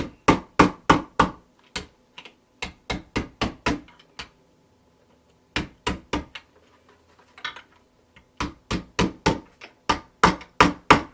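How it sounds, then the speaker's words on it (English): Sharp hammer blows strike a leather bag closure in quick rhythmic bursts, several groups of rapid taps separated by short pauses, close and clear with no talking. "when we hammer this down"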